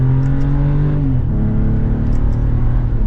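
A 2024 BMW 540i M Sport accelerating normally in sport mode with synthetic engine sounds switched off: a smooth, steady engine drone with rising tone, heard from inside the car and loud throughout.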